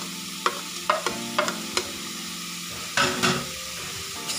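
A hotdog being stirred in a pot of sopas, the Filipino macaroni soup, with a spoon knocking against the pot several times in an uneven rhythm over a soft simmering sizzle, close and fairly quiet.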